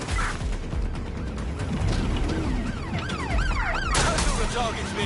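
In a Watch Dogs Legion game scene, an ambulance siren wails loudly over a dense backdrop of city noise and crashes, with its rising and falling sweep clear throughout.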